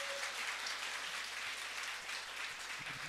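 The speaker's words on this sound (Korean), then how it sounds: "우리 박수 한번 다시 한번 쳐주시고" A church congregation at a Korean Sunday worship service applauds, producing a steady, even patter of many hands clapping together that sounds moderately distant and fills the whole span.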